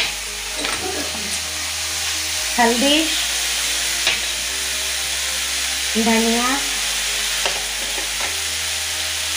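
Poi greens frying with ginger-garlic paste and spices in a pan, a steady sizzle with stirring throughout while a person talks over it.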